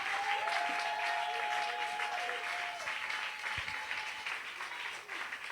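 A church congregation claps loudly and continuously in a sustained wave of applause, dense and even throughout, with faint voices mixed into the crowd noise.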